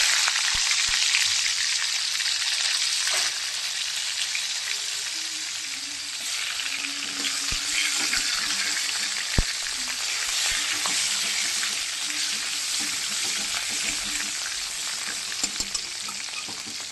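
Tomato hits a hot pan of oil during fish cooking and fries with a loud, steady sizzle and crackle, with a few stirring clatters and no talk.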